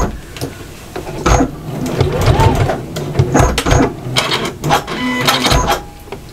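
A sewing machine stitches quilt binding in short bursts of rapid mechanical whirring and clatter, close and fairly loud, with pauses and small handling knocks, and a voice talks in between.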